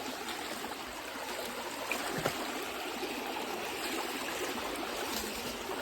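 A Konkan stream runs full with water, a steady soft rush and trickle heard faintly and continuously outdoors.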